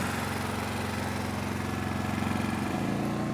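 A Predator 13,000W generator that sat unused for a year runs steadily in eco mode, its engine giving a continuous close, even drone with a low rumble and no talking.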